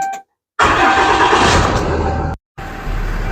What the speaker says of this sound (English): So what we're going to do is start the engine up.